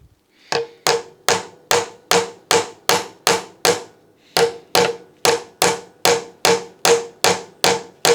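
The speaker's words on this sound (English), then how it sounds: "by hammering over here, I will sort of rock it out that way" Steady hammer blows on a seized engine part of a Cyclemaster Rabeneick Taxi wheel engine, about two per second, with a short pause midway; each strike rings sharply and closely with no talking.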